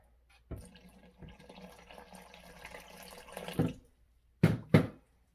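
Water pours into a container of flour, cornstarch and eggs for Korean pancake batter for a few seconds, rising in pitch as it fills, followed by two sharp bumps.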